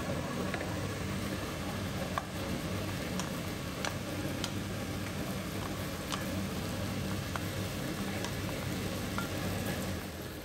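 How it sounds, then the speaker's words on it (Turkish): Onion and mushrooms sauté in a pan on the stove, a soft continuous sizzle with scattered faint pops and ticks, fairly quiet and steady throughout. "Yani soğanı önce biraz kavuracağım."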